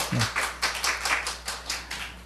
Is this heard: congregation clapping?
yes